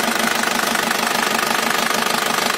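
An Isuzu Panther New Royal diesel engine, freshly rebuilt, idles with a steady, loud rhythmic knocking clatter heard up close for a few seconds, with no talking.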